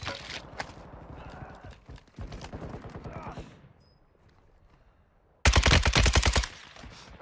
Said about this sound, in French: j'entends tirer là-bas au fond